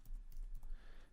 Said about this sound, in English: So I just need to type in here